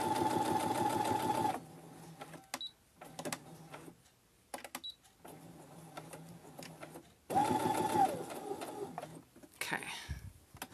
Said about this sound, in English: I think my sewing machine has a faster setting